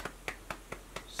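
About six soft, evenly spaced claps sound at a slow, steady rhythm in a quiet room, closing a bedtime read-aloud of a children's book.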